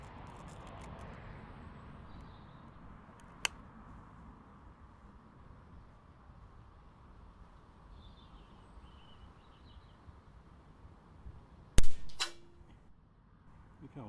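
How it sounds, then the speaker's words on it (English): A spring-powered air rifle fires outdoors: one sharp crack near the end, with a smaller click earlier over quiet background and a few faint birds. "Okay, I shot a bit early then and I didn't see where it hit."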